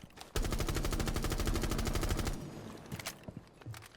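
Rapid automatic gunfire from a weapon in the video game Rainbow Six Siege rattles off in one loud sustained burst of evenly spaced shots, then stops, leaving a few faint clicks and handling sounds.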